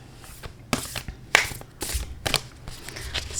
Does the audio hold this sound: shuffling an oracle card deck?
yes